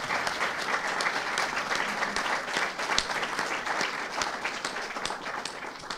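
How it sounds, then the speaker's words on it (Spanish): Steady, full applause from an audience at a book presentation, honouring Esteban Volkov, sustained at an even level throughout with no voices over it. "para el cual pido un aplauso."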